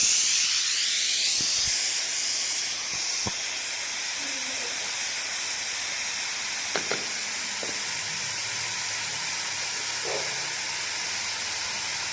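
A steady, loud hiss of steam escaping under pressure from a pressure cooker runs throughout, with a few faint clicks and knocks in the background.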